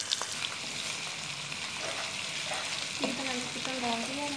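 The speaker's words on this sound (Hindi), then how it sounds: "अभी मैं इसमें चिकन डाल दूँगी।" Chicken pieces fry and sizzle in a pan with onion, garlic and ginger, a steady close hiss broken by scraping stirs and clatter, heaviest toward the end.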